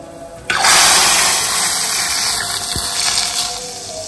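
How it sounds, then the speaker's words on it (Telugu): Hot tempering (baghar) poured into a pot of Hyderabadi khatti dal, bursting into a loud, sudden hiss and sizzle that stays strong and steady for several seconds before easing slightly. "చూడండి నేను పప్పులో బగారు వేసుకుంటున్నాను ఇప్పుడు"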